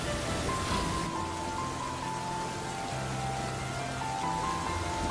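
Heavy autumn rain falls on a village dirt path in rural Bangladesh as a steady, even hiss of downpour that fills the whole stretch, with no voices.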